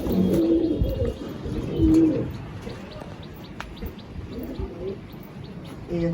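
A black-green Rampuri pigeon coos in a few low, rolling phrases, with the loudest bursts near the start and around two seconds and softer calls later, close by over a steady background.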